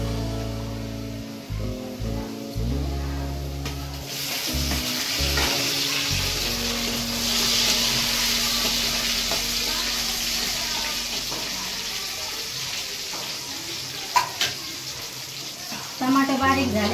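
Tomatoes tip into a pan of onions and garlic and burst into a loud, steady sizzle that fills the whole stretch, with a few stirring clatters early on and a quiet voice talking underneath.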